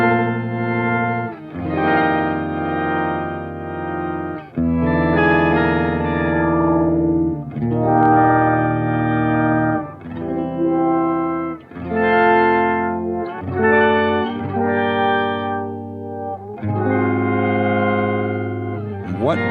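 An organ-like synth tone sent through a tremolo pedal, with chords held several seconds each and the volume pulsing steadily within each one, a sustained, close, harmonically rich sound with no talking.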